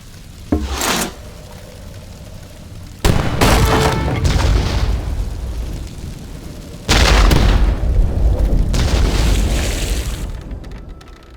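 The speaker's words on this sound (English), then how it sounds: "Ram the fountain with a fire ship!" Fire ship ramming a fountain and exploding in the strategy game Age of Empires III: two heavy booming blasts with rumbling, crackling fire trailing after each, loud and close, no speech.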